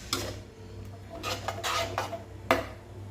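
A metal spoon scrapes and clinks against a pan while Chettinad chicken masala is stirred, giving a few sharp taps and rasping scrapes in irregular bursts over a low steady background hum, with no voice present.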